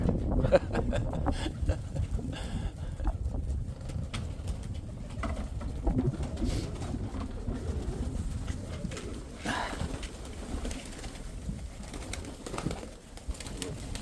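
Pigeons coo continuously through a dense outdoor din, with a steady rumble and people talking over it.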